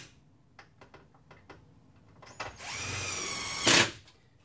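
A screw gun driving screws into the corner of a wooden elevated garden planter, with a few light taps first and then a close, loud sustained whirring drive that ends in a brief higher-pitched burst as the screw seats.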